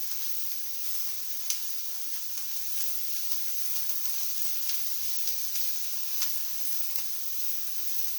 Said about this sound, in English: I'll let them cook just a few more minutes